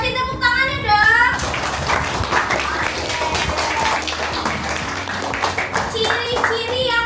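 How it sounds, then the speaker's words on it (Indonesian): Children clap together in a classroom, a lively burst of applause with a teacher's voice over the start and end and children talking beneath. "Good job, kasih tepuk tangannya dong"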